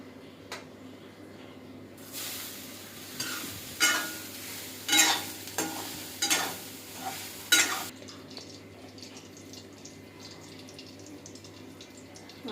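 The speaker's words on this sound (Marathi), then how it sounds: "आणि 2 चमचे धना पावडर, अर्धा चमचा हळद. आणि हे मी आता फ्राय करून घेणार आहे." Everest masala, coriander powder and turmeric fry in hot oil with a low sizzle, punctuated by a series of louder stirring bursts and scrapes in the middle, then settling back to a quieter hiss.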